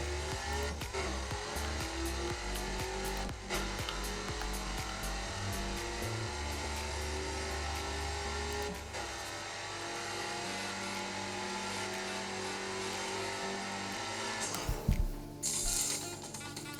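A car in a racing video game, played on a Gamesir G7 controller, runs with a steady engine drone and shifting tones for most of the stretch, then ends with a burst of scuffing and tire noise.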